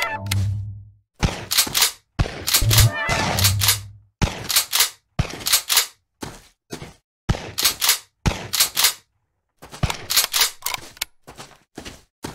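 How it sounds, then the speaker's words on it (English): Shotgun blasts in the pixel game Ultimate Harvest Day ring out in quick, loud, irregular bursts, each shot sharp and broadband with brief gaps of silence, some clustering into rapid volleys. "the shotgun sounds loud"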